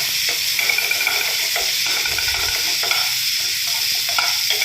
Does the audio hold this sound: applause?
no